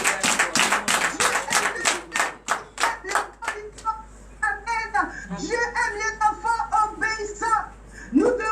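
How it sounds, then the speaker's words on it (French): A congregation at morning prayer claps in quick rhythmic bursts that thin out after a few seconds, while a preacher's voice and other voices continue over the scattered final claps. "Donnez l'acclamation à Jésus."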